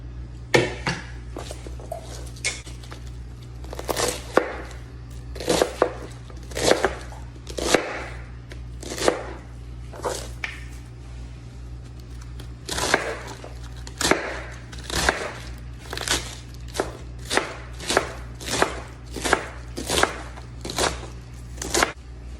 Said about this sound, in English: So, you know, you cut that, you still cut those tough parts out.